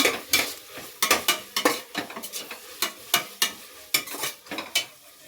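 Masala with fenugreek and coriander leaves for a soya green biryani is stirred and fried in a pan: repeated sharp metal spoon scrapes and clatters in an irregular rhythm over a soft sizzle, close up and without talking.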